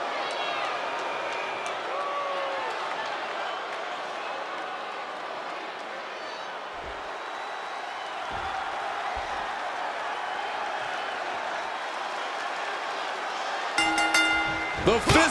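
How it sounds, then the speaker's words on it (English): Arena crowd at a wrestling match in the WWE 2K26 video game, a steady, fairly loud wash of cheering and roaring that carries throughout, with a few sharp hits near the end. "The fists are flying and this crowd is hot."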